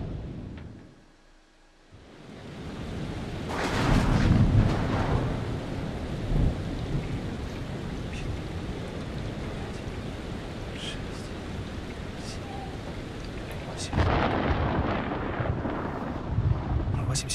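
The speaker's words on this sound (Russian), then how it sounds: "Шторм в 8 милях." A thunderstorm in the video game Man of Medan: steady heavy rain hisses while thunder rumbles low, swelling loudly after a brief lull and cracking again near the end.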